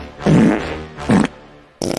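Fart sound effects open a comedy podcast intro: two low, buzzy blasts, the first longer, then a short higher burst at the end, loud and close.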